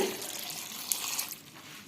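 Water pouring into a pot over cut vegetables and small shallots for theeyal curry, a short soft rushing splash that fades out, close and quiet with no talk.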